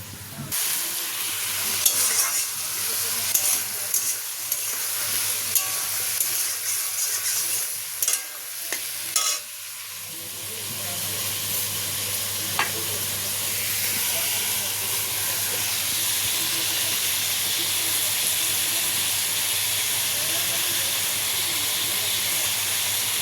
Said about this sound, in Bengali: তো দেখো পেঁয়াজ আর পেঁপে হালকা একটু ভেজে নেব